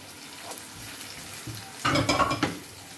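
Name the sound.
sautéing anchovy soup ingredients in a pan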